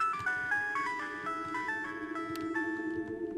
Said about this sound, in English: Whose phone is ringing?